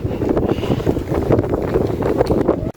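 Loud, gusty, cold wind in Toruń buffets the microphone in rough, continuous rumbling bursts, cutting off abruptly at the end.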